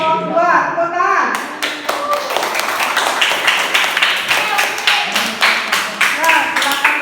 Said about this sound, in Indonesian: ya kita aplaus untuk kelompok 2. Tepuk tangan.